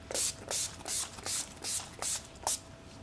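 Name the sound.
setting spray being sprayed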